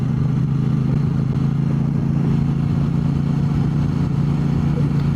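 A Royal Enfield Classic 650 motorcycle rides along with a steady, loud engine drone and road rumble throughout, close by and without pause.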